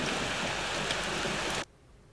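Rain in the horror game Corpse Party Rebuilt falls as a loud, steady, dense hiss that runs unbroken for about a second and a half, then cuts off abruptly to near silence.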